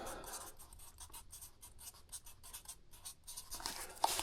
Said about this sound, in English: Alright, I'm just going to write